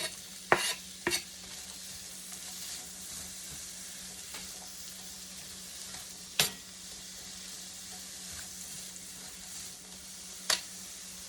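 A large onion sizzling as it fries in a pan, a steady bright hiss running throughout with a few sharp clicks and knocks of a utensil, no voices.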